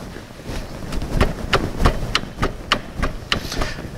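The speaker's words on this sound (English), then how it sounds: "just to tap the shoe back and forth and see if the pins go in and out" A drum brake shoe is tapped back and forth against the wheel cylinder pins, a series of about a dozen sharp metallic taps in an uneven rhythm, close and moderately loud over faint background noise.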